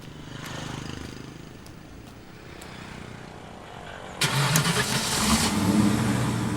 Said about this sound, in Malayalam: വണ്ടി ഒന്ന് സ്റ്റാർട്ട് ചെയ്യൂ.